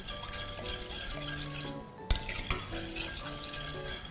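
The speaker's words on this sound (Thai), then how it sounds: "แล้วเราก็จะคนให้ตัวแป้งละลายก่อนนะคะ" A utensil stirs coconut milk with flour and salt in an unheated pot, giving soft scraping strokes and a few sharp clinks against the metal, steady and close with no voices.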